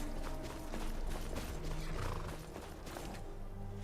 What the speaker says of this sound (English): Where did Horse go?